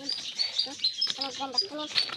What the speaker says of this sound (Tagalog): Yan, ibon